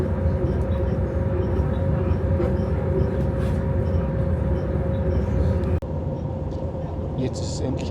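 Interior of a German regional train running, with a steady loud low rumble and hum throughout and a brief clunk near the end where the noise drops slightly.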